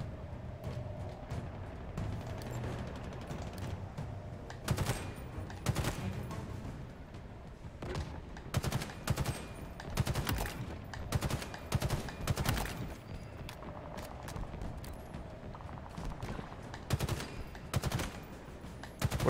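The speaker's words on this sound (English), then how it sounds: "What are they shooting at?" Bursts of gunfire crack out in Halo Infinite, with repeated automatic volleys and scattered single shots spread through a long combat stretch, some close and loud, others farther off, over a low rumbling background and no speech.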